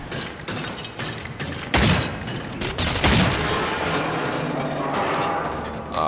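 Rapid bursts of automatic gunfire in the first-person video game Cryostasis, with loud, dense, continuous crackling over a mechanical rattle. Heavier volleys land around the two- and three-second marks, and nobody talks over the shooting.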